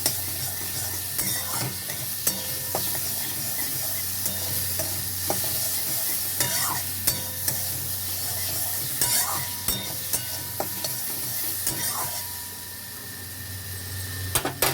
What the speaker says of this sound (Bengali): কালো সর্ষেটা দিয়ে গরম হয়ে গেছে, তখন দিয়ে দিয়েছি কাঁচা আমগুলো, দিয়ে এবার ভালো করে ভেজে নেব